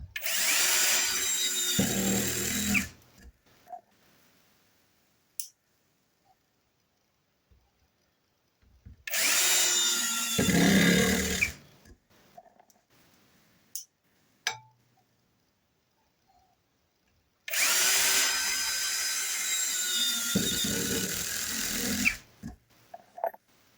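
A Grosser GCD 16/42 cordless drill drives screws into wood in three separate bursts of two to three seconds each, with quiet pauses and faint handling clicks between them.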